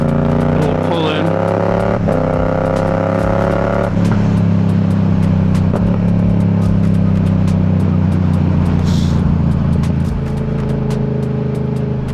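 Motorcycle engine running on the road in traffic, a steady low drone with some rising revs, close and loud throughout, with a rider talking over it.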